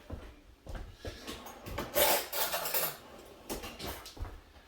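A spoon scrapes and clinks against a bowl of mashed chickpeas being prepared for a vegan burger patty, several short, close, quiet strokes with no talking.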